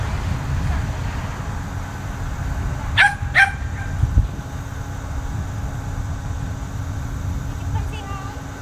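A puppy at an animal shelter lets out a few short, sharp barks and yips partway through, amid a steady low hum of room noise, with people talking nearby.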